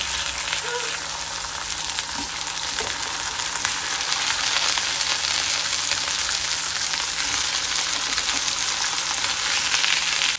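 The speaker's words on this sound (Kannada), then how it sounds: "ಎಣ್ಣೆ ಕಾದಿದೆ. ಇವಾಗ ನಾನು ಟೊಮೆಟೊ ಹಾಕೋತಾ ಇದ್ದೀನಿ." Tomatoes dropped into hot oil in a pan: a loud, dense, continuous sizzle and crackle that fills the clip evenly, close up, with no voices.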